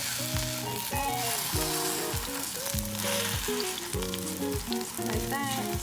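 A Korean pancake fries in oil in a pan, giving a loud, steady sizzle and crackle that runs the whole time beneath continuous background music.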